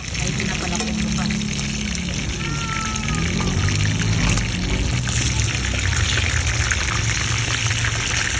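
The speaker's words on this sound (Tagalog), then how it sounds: "Ito naman ang langka. Pinapakulo ko pa." Jackfruit simmers in coconut milk in a pot, a continuous bubbling, watery churn running steadily under a voice speaking throughout.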